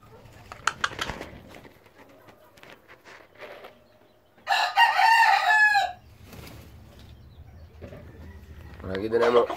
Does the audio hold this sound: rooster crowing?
yes